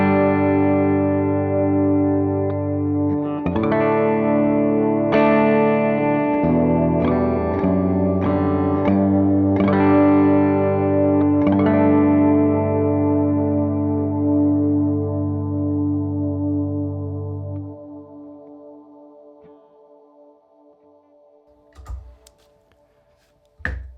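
Electric guitar played through a Meris Mercury X pedal on its Lo-Fi Hall reverb, a few strummed chords and picked notes swelling into a huge, washy hall tail that lingers and slowly fades out alone, with a couple of faint clicks at the end.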